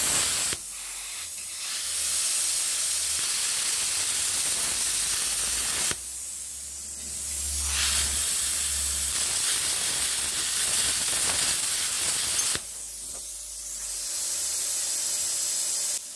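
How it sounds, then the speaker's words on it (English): A Parkside PPS 40 plasma cutter set to 33 amps cuts 5 mm metal rebar in three sustained bursts. Each burst is a loud, close, harsh hissing roar, separated by brief pauses. No one speaks. "let's increase the current at 33 and cut this metal rebar"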